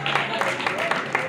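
Audience at a religious jatra festival gathering applauding together, a dense sustained patter of many hands clapping at close-to-mid distance, steady throughout with a few louder swells.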